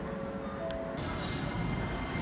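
Keikyu local stopping train heard from inside while riding toward Shinagawa, a steady low rumble of running gear with a faint tonal whine, continuous and moderately quiet, no talk.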